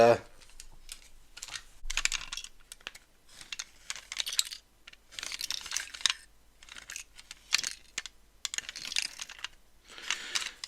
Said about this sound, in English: there is clearly something that has broken off inside, rattling around